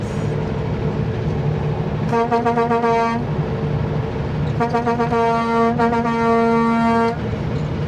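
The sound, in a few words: vehicle horn honking on a highway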